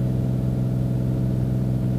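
Steady, continuous drone of a light airplane engine at reduced power during a demonstration flight, a constant low hum filling the cabin with no talk over it.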